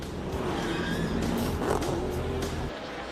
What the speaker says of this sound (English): 11 cars pile up in turn 3 at Bristol.